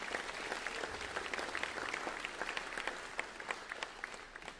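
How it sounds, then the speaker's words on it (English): Audience at a school band spring concert clapping for student helpers, a steady dense patter of many hands throughout, moderately distant and continuous without a break. "Can we clap for them?"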